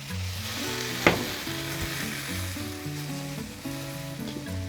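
Butter and garlic sizzle steadily in a pan as broth is stirred in, a continuous frying crackle with a brief louder splash near the start, no voices.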